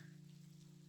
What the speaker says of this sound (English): And there goes the rain.